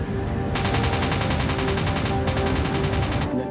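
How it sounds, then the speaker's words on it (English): Rapid, continuous bursts of heavy cannon fire rattle on without pause, loud and dense, with a brief drop near the end. "I saw the surface of the water being puckered by cannon shells coming towards us"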